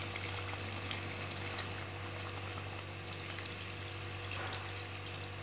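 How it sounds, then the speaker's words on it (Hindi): Mutton korma being stir-fried in Purani Delhi Kareem style in a pan over a medium-to-high flame, the meat releasing its own water; a steady, continuous sizzle and bubbling with faint stirring scrapes, close and even. "ये हमने इसको चलाते हुए 5 से 6 मिनट कंटिन्यू इसको चलाते हुए मीडियम टू हाई फ्लेम पे भून लिया है अच्छे से"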